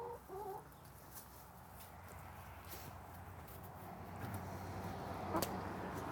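Several backyard-coop chickens cluck softly and intermittently against a low steady background hum, the calls moderately close and unhurried, with a slightly louder burst of clucking near the end.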